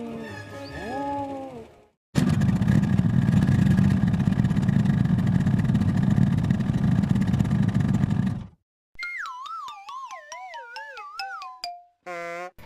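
A motorcycle engine runs in a loud, steady drone for about six seconds. Short cat-like meows come before it, and sweeping electronic tones follow it.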